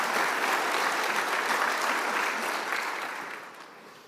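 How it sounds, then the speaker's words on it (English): Conference audience applauding the event's sponsors, a dense steady wash of many hands clapping that fades gradually toward the end. "A round of applause for them, please,"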